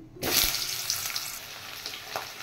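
Cut potatoes tumble into hot oil already seasoned with cumin seeds, dried red chilli and bay leaf, setting off a loud, sudden sizzle that settles into a steady, close frying hiss.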